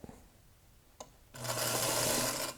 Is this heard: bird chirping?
no